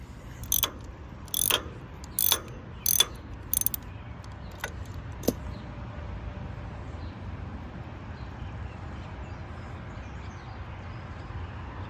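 A hand ratchet turns a socket during engine work, sounding as several quick bursts of clicking in the first half with short pauses between them, followed by a few faint single clicks over quiet room tone.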